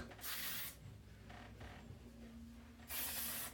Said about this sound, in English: just gonna spray a little of that to keep that curl in